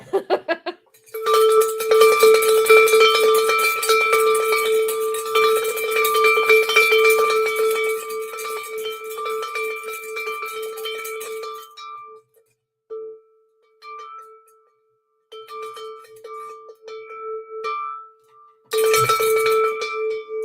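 A livestream's bell-icon alert plays a series of bright, metallic cowbell-like dings. The chimes ring loudly for about twelve seconds, then come back in shorter bursts separated by gaps of silence.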